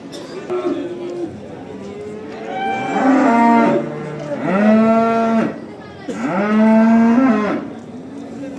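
Calves at the Ganja livestock market moo loudly and close by in three long, drawn-out calls spaced a second or so apart, with faint market bustle in between.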